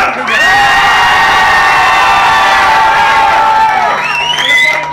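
A concert crowd cheering loudly, with sustained whoops and shouts rising together in a big hall, then fading slightly at the end.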